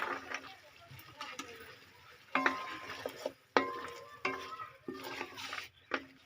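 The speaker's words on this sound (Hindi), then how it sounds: "गोश्त को मैंने फ्राई कर लिया तो अब मटर जाएंगे" Peas tipped into fried meat in a pan for pea chicken rice, with scraping, clattering stirring bursts and intermittent sizzle, the spoon knocking the pan in uneven strokes, close and moderately loud.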